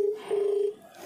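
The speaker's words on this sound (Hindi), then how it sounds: "देखिए मेरे इस नंबर पे कॉल आ रहा है" Mobile phone ringing with an incoming call while connected to a Fire Boltt Mercury smartwatch: a steady electronic ring tone, close and clear, with one brief dip and a fade in the final moments.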